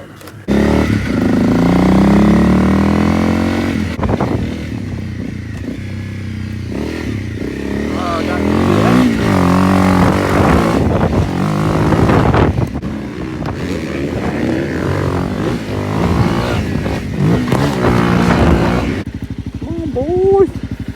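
A Honda CRF250L dirt bike fitted with a Race Tech Gold Valve G3S shock is ridden on open BLM land. The engine is loud and close, revving and accelerating in repeated surges, with clatter and a rider talking over it.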